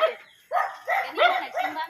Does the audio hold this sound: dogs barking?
yes